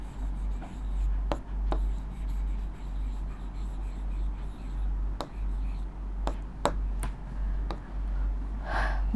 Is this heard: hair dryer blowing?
no